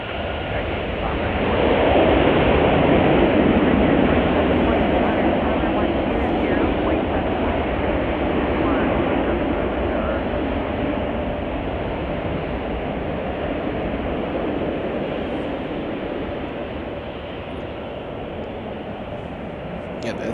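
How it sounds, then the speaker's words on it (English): A 20-year-old United Boeing 737-800 arriving from Las Vegas at Chicago O'Hare produces a broad, continuous jet rumble that peaks early and then slowly fades, with faint talk in the background. "that's United Flight 1006 from Vegas on a Boeing 737-800"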